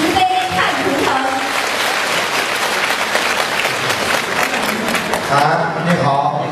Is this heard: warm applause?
yes